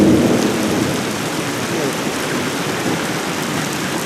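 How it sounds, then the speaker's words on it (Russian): Heavy rain pours down during a thunderstorm in Kimovsk, a dense steady hiss on surfaces with a low thunder rumble fading at the start, loud and close. "Ууу, дождик, дождик, ты могуч."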